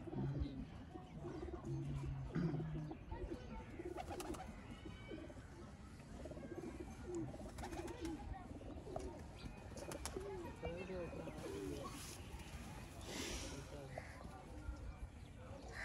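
Teddy pigeons coo softly in a steady low murmur on a rooftop, with scattered bird calls and shuffling noises throughout, under a voice talking.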